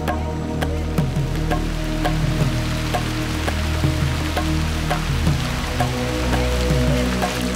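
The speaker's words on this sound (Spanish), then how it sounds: "Siguieron incluso bajo la lluvia intensa." Heavy rain falls steadily through the Darién jungle, a dense, continuous wash of drops pattering on leaves and surfaces, with a low constant hiss and no voices.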